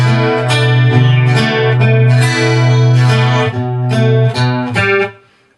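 A slow acoustic guitar passage from a song, Vevo sessions version, with an open third string ringing: close, clear plucked notes and chord tones in an even, deliberate rhythm, fading out at the end.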